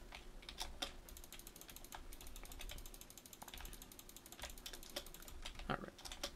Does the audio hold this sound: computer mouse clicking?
yes